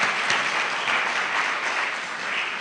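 Audience applause for Professor Joshua Yindenaba Abor at his inaugural lecture, a steady, dense wash of many hands clapping in a hall, sustained and fairly loud.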